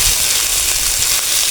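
Boiled potato pieces fry in hot oil with pui shak stalks for a tilapia curry, giving a steady, dense sizzle that stays even and close throughout with no voices.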